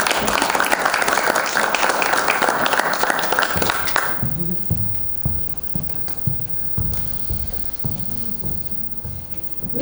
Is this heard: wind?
no